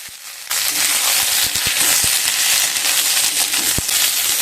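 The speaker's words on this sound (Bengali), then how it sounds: "মিডিয়াম টু লো স্টিমে পেঁপেগুলোকে হালকা ভেজে নেব" Pieces of cut papaya frying in a kadai over medium-low heat, a steady loud sizzle starting abruptly after a brief quiet moment, with scattered light pops and crackles throughout.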